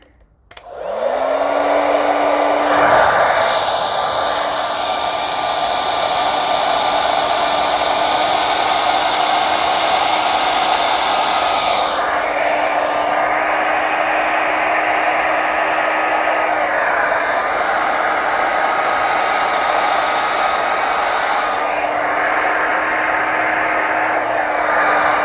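A hair dryer blows steadily across acrylic pour paint, a loud continuous whirring hum that starts abruptly and runs unbroken, with slight shifts in pitch as the airflow is moved around.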